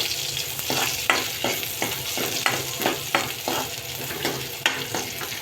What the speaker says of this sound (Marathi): कांदा फ्राय करून घेणार आहोत